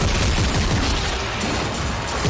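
Shotgun blasts in the Dead Space 3 video game come in a loud, dense, continuous burst of booming fire and impacts with no gaps.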